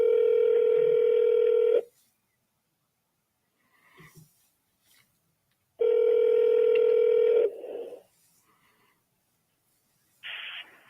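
Two long, steady electronic phone tones of the voicemail kind sound about four seconds apart, with faint clicks and noises between them and a short higher beep at the end.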